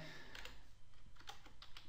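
Login credentials are tapped out on a computer keyboard in quick, light clicks with irregular rhythm, close but quiet, with no voice over them.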